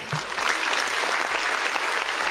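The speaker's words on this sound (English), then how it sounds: "Can I give a round of applause if this is facts?" On a mixed martial arts talk show, people in the room give a brief, dense round of clapping that holds steady and fairly loud for its whole length.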